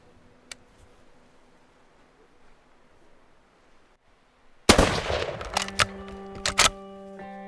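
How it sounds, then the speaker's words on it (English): A single loud, close rifle shot fired at a deer-sized game animal during a ranch hunt cracks out suddenly after several seconds of quiet outdoor ambience, followed by a few sharp rattling echoes and tails. "I'm not sure how good that shot was."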